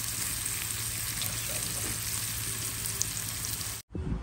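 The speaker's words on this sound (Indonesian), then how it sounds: "Jadi tengah goreng ikan perkasang." Fish frying in a pan, freshly caught by cast net, a steady loud crackling sizzle of hot oil up close that cuts off abruptly near the end.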